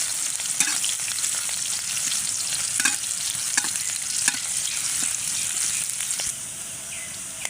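Garlic cloves and onion fry lightly in a pan, giving a steady close sizzle with scattered stirring clicks and scrapes, and no voices, until the frying noise eases slightly near the end.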